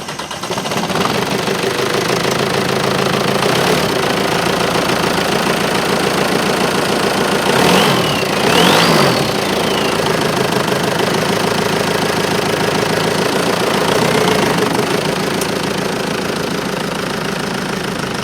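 A VW diesel engine swapped into a Triumph Spitfire runs steadily at idle after a fresh rebuild, giving a loud, continuous clattering knock with a couple of brief louder swells partway through.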